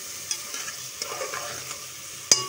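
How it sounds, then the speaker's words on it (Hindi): Chicken sautéing in a pot for Lahori murgh cholay, with a soft continuous sizzle and a few light clinks of stirring, ending in a sharper utensil knock. "4 से 5 मिनट हम चिकन को इसमें सॉटो करेंगे।"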